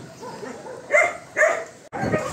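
Dogs barking outdoors at a shelter for dogs without roofs during a downpour, two sharp barks in quick succession followed by a third rougher yelp, close and fairly loud.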